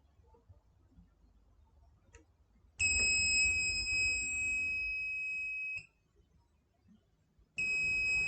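An active buzzer on an Arduino board, switched by a potentiometer, gives a loud steady electronic tone for about three seconds, cuts off, then starts again near the end over faint background noise.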